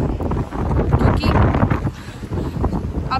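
Strong cold wind blows outdoors in Canada, roaring and gusting unevenly as it batters the microphone, loud and rumbling for the whole stretch with no voices.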